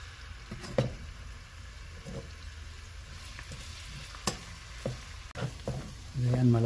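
Garlic sizzles steadily in hot oil in a pan as the first step for Filipino pancit bihon, with occasional spatula scrapes and stirs and a louder burst of frying near the end, heard close.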